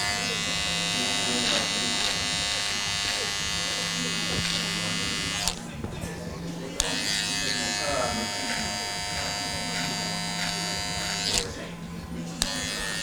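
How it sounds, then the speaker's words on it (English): Electric beard trimmer running steadily while trimming a beard, a constant buzzing hum with brief changes in pitch as it moves through the hair, close up, with some talk at times. "just kind of run the trimmer along in the same direction that the hair grows"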